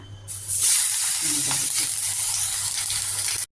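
Rohu fish pieces frying in hot oil in a home kitchen, a loud steady sizzle that starts just after a thud and hisses continuously close up.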